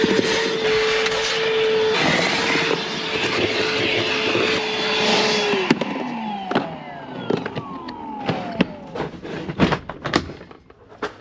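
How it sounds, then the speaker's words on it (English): A vacuum cleaner whines steadily inside an electrician's truck cab, then powers down, followed by scattered knocks and thumps of objects being moved. "We'll take the vacuum, get the front cleaned out."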